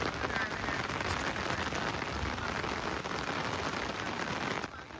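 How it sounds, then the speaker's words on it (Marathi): Steady, heavy monsoon rain pours down on farmland during rice transplanting in Dapoli, a dense continuous hiss of drops hitting surfaces with no pause. "पाऊस घेऊनच आलो तुमच्याकडे."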